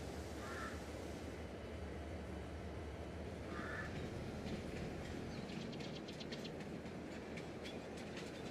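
A freight train rolls past in Farming Simulator 22, a steady rumbling drone with faint clicking wheel noise building toward the end, heard alone with no talk.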